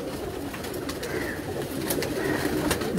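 Pigeons coo softly and repeatedly amid a constant low background murmur, the calls overlapping in a steady rhythm.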